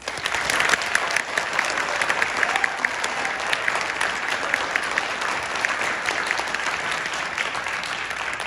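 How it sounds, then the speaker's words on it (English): A concert audience applauds a sixth grade school band, steady dense clapping from many hands filling the hall at an even loudness throughout. "So I think we should give them a round of applause."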